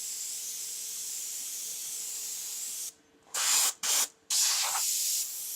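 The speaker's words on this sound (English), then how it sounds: "spraying that nicely at the moment. You can actually hear it" An airbrush sprays paint in close, hissing bursts while shading a freehand skull. Three or four short blasts sit over a steady background hiss.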